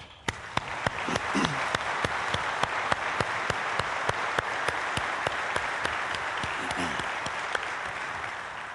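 A conference audience applauds Indianapolis Fire Department support staff at a firefighting event, a dense, steady wash of clapping that holds loud throughout, with sharper individual claps popping out near the front.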